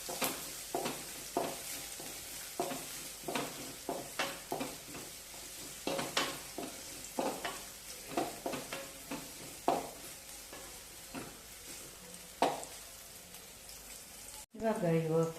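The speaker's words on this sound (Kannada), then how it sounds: "ಇವಾಗ ಈರುಳ್ಳಿ ಕ್ಯಾಪ್ಸಿಕಮ್ ಎರಡನ್ನೂ ಒಟ್ಟಿಗೆ ಹಾಕ್ಬಿಡ್ತಾನೆ. ಇದು ಸ್ವಲ್ಪ ಫ್ರೈ ಆಗಬೇಕು." Chopped onions and capsicum frying in oil in a pan at home, with a soft steady sizzle broken by a rhythmic series of sharp scraping stirs from a spoon, fairly close and fairly quiet.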